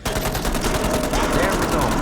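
Rapid automatic gunfire in a video game rattles off in a fast, even stream of close, loud shots, unbroken for the whole moment.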